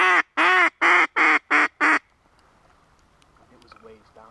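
Six loud, evenly spaced duck quacks in quick succession, close by, then a quieter stretch with faint distant sounds.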